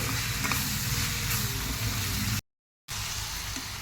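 Boiled bitter gourd pieces are stirred with chili powder in a hot oiled pan, giving a steady close sizzle and scraping that runs alone, broken by a brief cut to silence before resuming.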